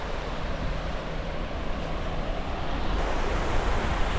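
Ocean surf rolls onto a beach at Diu, India, a continuous broadband wash of breaking waves with wind rush over the microphone, building slightly louder toward the end, no voices.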